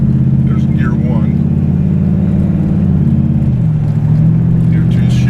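A 1956 DeSoto with a rebuilt transmission drives along, its engine rumbling steadily and loud as it pulls through a gear shift, the pitch dropping and settling partway through under a constant road drone.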